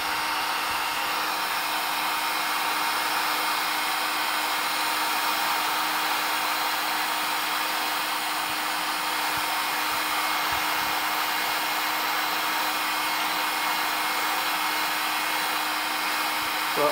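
A heat gun blows a steady, even whoosh while shrinking heat shrink tubing over a chassis-mounted IEC plug connection, a constant close airflow hiss with no pauses.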